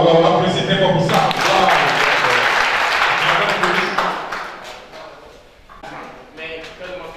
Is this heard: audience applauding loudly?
yes